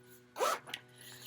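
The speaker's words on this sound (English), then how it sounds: "a zipper pocket," A single quick zip from a zipper on the outside pocket of a work tote, styled like a standard cosmetic pouch, heard close and clear as one short pull in a quiet room.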